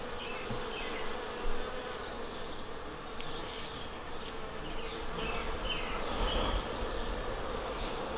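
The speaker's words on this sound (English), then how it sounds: "apparently a bee found our tree and did its little dance. And attracted a whole swarm of bees." A swarm of bees hums steadily in a tree outdoors, a dense continuous buzz of many insects with individual bees droning closer now and then, no voices present.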